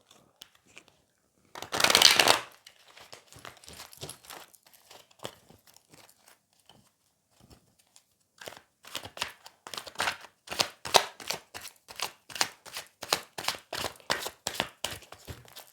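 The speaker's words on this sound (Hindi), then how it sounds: "मैं आपके लिए कार्ड शफल कर देती हूँ" Deck of tarot cards shuffled by hand, with one loud riffle burst, then soft scattered taps, then a long run of rapid, rhythmic card flicks, close and without talk.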